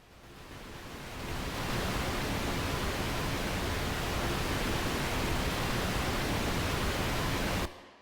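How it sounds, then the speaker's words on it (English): A pink noise test signal played back in Pro Tools: a steady, full broadband hiss that swells in over the first second, holds evenly, then cuts off abruptly near the end. "here I have 4 seconds of pink noise."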